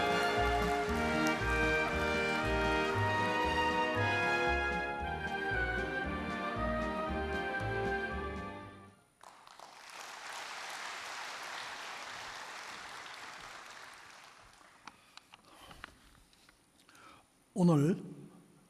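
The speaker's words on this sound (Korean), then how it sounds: "여러분 아주 큰 박수로 김인호 회장님을" At the Korea International Trade Association's 70th anniversary ceremony, an audience applauds to welcome chairman Kim In-ho. Music plays first, then a dense, steady round of clapping fills several seconds and tapers off into scattered claps.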